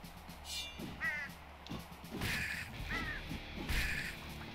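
Harsh crow-like caws from birds in the video game Slain: Back from Hell, several calls in a row, fairly close, over a rumbling game background.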